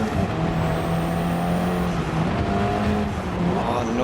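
Rallycross race car engine in a video game at Sardegna Windmills, a steady droning roar with shifting pitch held throughout, loud and close, no talking.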